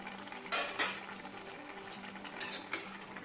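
A pot of rice water bubbles at a steady boil, with a few sharp metal clinks of a lid or spoon near the start.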